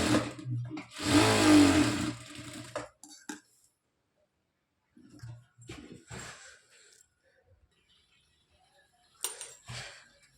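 A sewing machine stitches a blouse with a dense whirring burst of about two seconds, followed after a pause by shorter, fainter runs of stitching separated by quiet gaps.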